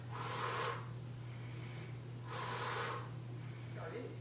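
Two strong, forceful exhales blow out during a weight-lifting arm exercise, with fainter breaths between them, close and breathy over a steady low electrical hum.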